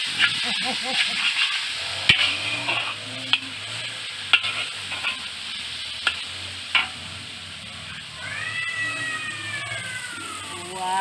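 Palm sugar simmering on a gas stove for pad thai, with a soft, steady bubbling and stirring. Scattered clicks and knocks, a spoken voice, and a rising whine near the end sit over it.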